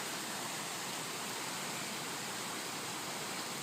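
Floodwater rushing through North Boulder on a Friday morning, a steady broadband roar like a torrent or waterfall that holds constant and fairly loud throughout, with no talking.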